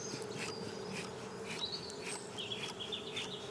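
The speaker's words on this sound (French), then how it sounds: "je me fie au son des abeilles et puis à leur façon de se promener" Honey bees drone steadily in an open hive being smoked, a continuous close hum with individual insects whining past now and then, and no talking.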